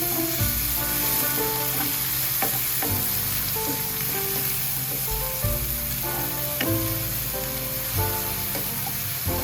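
Beef sizzles and fries steadily in a hot pan for picadillo, with occasional sharper clatters of stirring over the continuous crackle, close and moderately loud, no talking.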